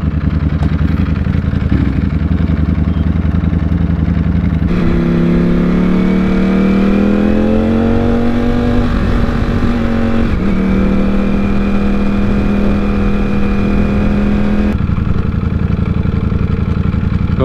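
A Ducati V4S motorcycle engine revs up in rising, sustained bursts, its pitch climbing and holding before dropping back to a rough idle, loud and close with no talk.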